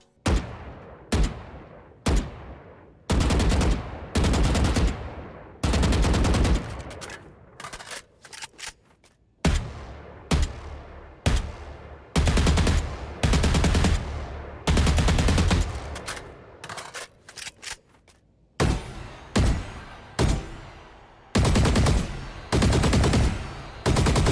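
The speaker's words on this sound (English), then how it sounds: "let's compare the shooting sound for each Vandal" Shots from the Champions Vandal rifle in the video game Valorant come as repeated crisp bursts and single shots, loud and close, separated by brief silences, with no speech.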